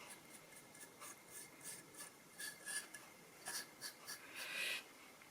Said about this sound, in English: sand them back a bit